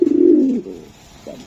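Racing pigeons in a loft give a close, loud throaty coo lasting about half a second, followed by a pause and a shorter, softer second coo.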